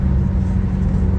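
A car drives along steadily, its engine and road rumble forming a constant low drone with no breaks, close and fairly loud throughout.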